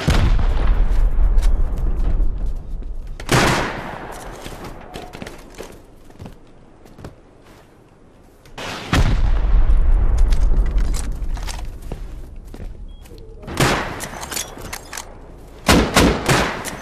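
AK rifle gunfire during a raid in an online survival video game: bursts of close, loud shots and booming impacts, with rapid cracks later on, over constant heavy battle noise.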